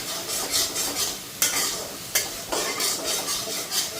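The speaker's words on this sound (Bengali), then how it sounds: "মশলাটা হালকা ভাজা হলে পরে পুটডোকাগুলি দিয়া দেবো।" Spices frying in an oiled pan with salt and turmeric, a steady close sizzle with repeated scraping stirs and a couple of sharper knocks against the pan.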